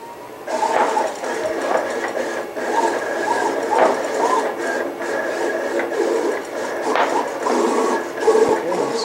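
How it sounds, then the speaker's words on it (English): A vinyl cutter slicing a blue color layer of a design, giving a steady mechanical whir with rhythmic clicking and shifting carriage movements, continuous and close throughout. "I'm going to tell it I want to cut only my selection, everything that's blue there, and send it to the cutter."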